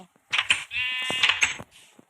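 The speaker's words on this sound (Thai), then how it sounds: "ตอนนี้ผมก็จับแกะมาแล้ว" Sheep in the Minecraft video game bleat several times in quick succession, clear, close and loud with no voices over them.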